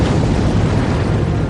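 Volcanic eruption explosion on Montserrat, a dense, continuous low rumbling roar with broadband noise, loud and steady throughout, no voices.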